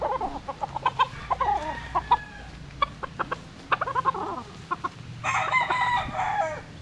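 Young white Kelso gamecock stags call around a farm, with repeated close clucks and short calls followed by a loud, drawn-out crow near the end, and no talking.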